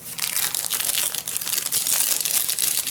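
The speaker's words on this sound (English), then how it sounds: "here we have a cute little glassine envelope" A small glassine envelope in a half-ledger junk journal is handled up close, its thin paper crinkling and rustling continuously with no talking.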